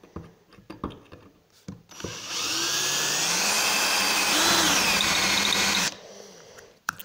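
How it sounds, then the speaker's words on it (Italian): Ryobi cordless drill drilling, a few handling clicks, then the motor spins up into a loud sustained whine for about four seconds before stopping abruptly, followed by quiet knocks. "trapano Ryobi."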